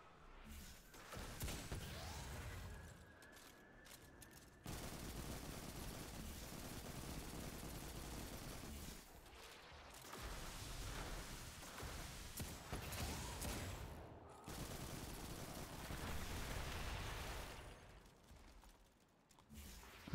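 Video game gunfire inside a lost sector: sustained, dense rapid shots and mechanical clatter that run almost without pause, fairly faint overall, with a few brief lulls.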